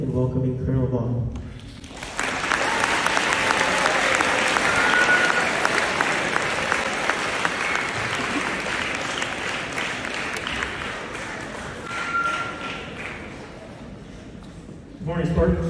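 An audience at a Junior ROTC school event applauds to welcome a colonel, a dense burst of clapping that starts after a brief voice, holds steady for about twelve seconds, then fades before speech resumes.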